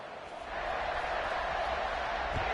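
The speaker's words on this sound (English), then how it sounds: "this crowd is buzzing after that last score." A sports crowd buzzes after a score, a steady wash of many voices rising slightly and then holding at a moderate level.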